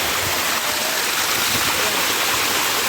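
A village waterfall roars as a constant, loud broadband rush of falling water, steady and unbroken from start to finish.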